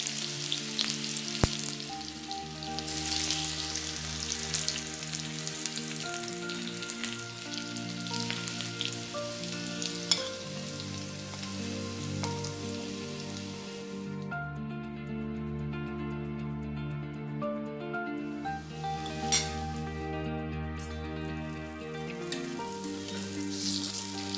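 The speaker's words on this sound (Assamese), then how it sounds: "এতিয়া মই আলুখিনি 5 মিনিটৰ কাৰণে মিডিয়াম ফ্লেমত ভাজি লম।" A spiced potato mixture with onion, turmeric, red chilli, cumin and meat masala fries for aloo paratha over a medium flame, giving a steady, close sizzle throughout with no talking.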